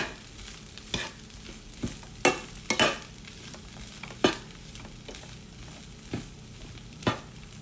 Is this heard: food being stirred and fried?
yes